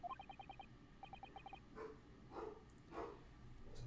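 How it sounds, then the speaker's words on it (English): Several dogs in a video game bark in short, quick bursts, the barks soft and slightly distant over a faint background. "Sorry to hear the dogs barking."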